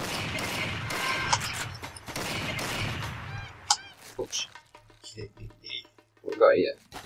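Gunfire in the hunting video game Cabela's Dangerous Hunts 2011: a few sharp, scattered shots crack out over a busy game soundscape after a dense, noisy opening stretch.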